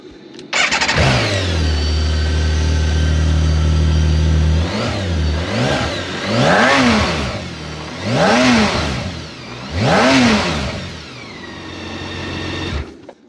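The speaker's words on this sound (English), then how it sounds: "This is definitely one of the unique sounding engines that BMW makes at this moment." A BMW K1600 GTL motorcycle's six-cylinder, four-valve-per-cylinder engine starts and settles into an idle, then revs up and down four times, loud and close.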